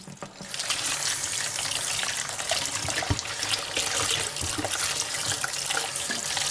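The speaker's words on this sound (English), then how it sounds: "I want to rinse or wash the seed off to get these things off it" Watermelon seeds rinsed under a running kitchen tap at the sink, a continuous loud splashing hiss of water with faint rattling, close and steady without talking.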